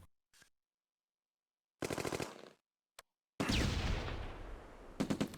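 Gunfire in the WWII video game Close Combat A Bridge Too Far: short separated bursts of automatic weapon fire, then a louder sustained volley with sharp cracks near the end, separated by silence.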